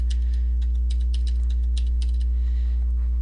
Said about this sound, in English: I know that white is 255 for all 3 of these values, so I'm just going to type them in.